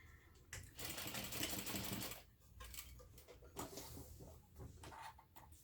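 A sewing machine stitches a crossover clutch bag in short bursts, with a long run of rapid needle clatter first and then several briefer runs separated by pauses and soft handling sounds.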